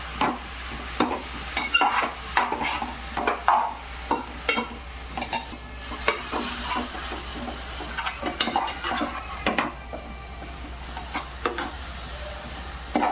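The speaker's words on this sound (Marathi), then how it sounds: "रताळ्याला आपल्या एक मिनटं डवलून घ्यायचं आहे" Sweet potato pieces are stirred and fried in ghee in a pan for a sweet potato kheer, with a steady close sizzle under repeated scraping stir strokes and no speech.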